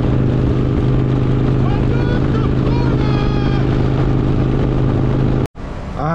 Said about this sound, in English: I re-enabled the bike, fired it up, and now we're hitting the road.